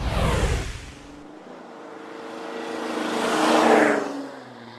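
A modified diesel pickup truck with an added performance bundle pulls away on a test drive, a loud initial rumble fading into a steady engine whir that rises as it accelerates, with no talk.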